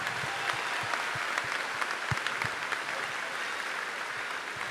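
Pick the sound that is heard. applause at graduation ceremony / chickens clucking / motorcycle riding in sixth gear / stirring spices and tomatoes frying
applause at graduation ceremony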